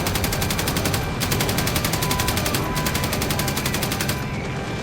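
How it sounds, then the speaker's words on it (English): Aircraft carrier's anti-aircraft guns blazing at attacking Zero fighters, a dense, continuous rattle of rapid automatic fire, loud and unbroken over a heavy rumbling background. "The carrier's guns blaze as they fend off the Zeros, while Johnson and Taylor work frantically"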